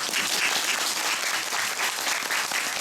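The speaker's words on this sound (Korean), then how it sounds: "여러분 모두를 위해서 박수 한번 다 같이 쳐보면" Dense, even applause from a theatre audience after a Korean musical performance, continuous clapping sustained through the brief stretch without speech.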